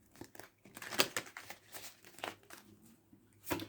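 Close, crisp papery riffling and slapping of tarot cards being shuffled, in quick irregular bursts.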